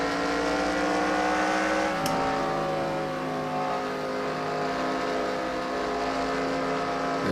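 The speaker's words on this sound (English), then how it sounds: "Yeah, that car's a bit loud." A loud, steady race car engine in a video game drones with sustained harmonic whine, a brief shift in pitch midway, then continues evenly at high volume.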